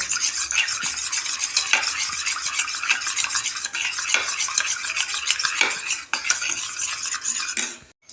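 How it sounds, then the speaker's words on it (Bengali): A spoon stirs a mixture in a bowl for chilli soybean, making a close, steady stream of rapid scraping clinks that lasts throughout, with no voices. "এটা আমি একটু গুলে রাখবো"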